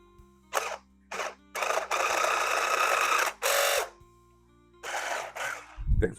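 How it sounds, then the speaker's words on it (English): A stand mixer whirs in bursts while folding Hershey bar pieces into frosting, switching on and off several times at close range with steady motor hum. "I'm gonna add my mixer back in to the tray. Go nice and slow"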